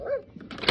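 A dog in a shop barks once, a short, loud, close yelp at the start, followed by quieter rustling and a burst of handling noise.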